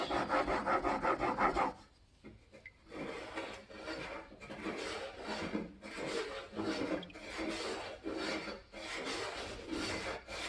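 A Japanese hand plane blade rubbed back and forth on a sharpening stone: a close, gritty rasping scrape in steady strokes of about a second each, pausing briefly near the start, with no talking.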